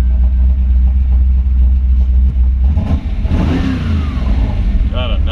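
A 1933 Ford Tudor steel street rod with a Ford Power engine revs up loudly nearby, its deep idle rumble building into a throaty rev midway, then settling again.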